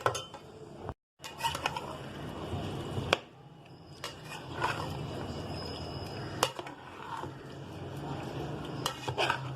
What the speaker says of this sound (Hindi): बहुत ही अच्छे से हमने मिक्स कर देना है इसको।